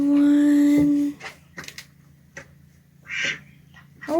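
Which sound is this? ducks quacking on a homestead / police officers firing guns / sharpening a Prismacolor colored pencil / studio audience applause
ducks quacking on a homestead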